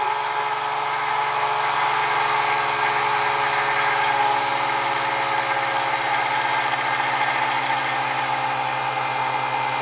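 A generator engine runs steadily under load, a constant mid-pitched drone with a fine rhythmic vibration, close and even throughout with no voices.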